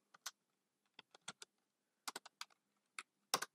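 Keys tapping on a computer keyboard in short, irregular bursts of clicks, fairly close and quiet, with gaps of silence between groups of keystrokes.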